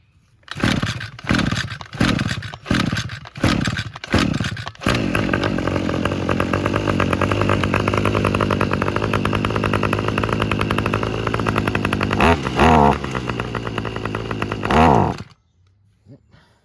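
A Toro 25cc string trimmer from an estate cleanout is pull-started with about six rapid rope pulls, then its small two-stroke engine catches and runs loud and steady close by before revving briefly and cutting off.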